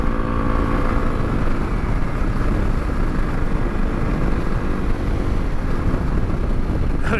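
A Honda CRF300L rally motorcycle accelerates hard, its engine a steady, loud drone from start to finish with heavy wind buffeting over it and no voices.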